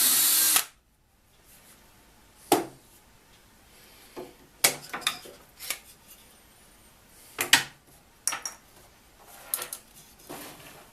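A power drill boring holes through a homemade grinder tool rest for two clamping bolts, heard as short, loud, separate bursts with quiet pauses between them, close by and with no talking.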